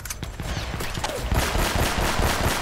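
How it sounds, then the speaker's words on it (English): Enemy gunfire in Uncharted: Drake's Fortune, a dense, continuous burst of shots and impacts that builds toward the end, loud and close within a game combat scene. "He's gonna shoot me with the laser!"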